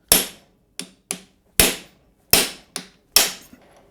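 An old, battered plug socket on an extension bar is hammered to knock a fork part out of a BSA A10 motorcycle, giving seven sharp metallic knocks in an uneven rhythm, close and loud, each with a short ringing decay.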